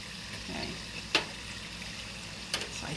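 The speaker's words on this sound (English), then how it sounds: "So I'm gonna keep frying these." Shrimp rissóis, small breaded shrimp empanadas, fry in hot oil with a steady low crackle and sizzle, broken by two brief sharper pops of spattering oil, close and fairly quiet.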